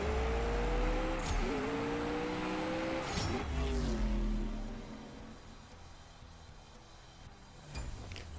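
A race car engine in CSR2 revs hard and climbs in pitch, dropping sharply at each quick gear shift, then fades into a quieter whoosh as the car pulls away.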